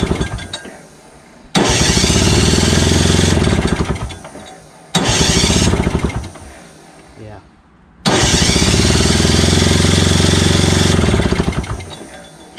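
Craftsman 5HP Tecumseh single-stage snowblower with electric start and a carburetor fuel fault, loud whirring cranking bursts in three long attempts with pauses between, close by, with a voice speaking briefly.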